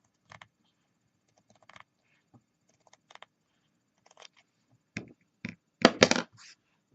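Scissors snipping cross-stitch fabric in a quiet room, a few faint isolated clicks early on, then a cluster of sharper, louder cuts near the end, close and with no voices.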